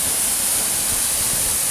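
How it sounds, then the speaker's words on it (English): The Eas Mor waterfall roars with a steady, dense rush of water, loud and unbroken throughout, with no voices over it. "And there's the waterfall."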